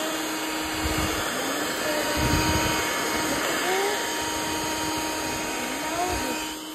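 A Hihhy cordless handheld vacuum cleaner runs at full power with a steady broadband whir and a faint high whine, its pitch shifting slightly as it moves, with no talking.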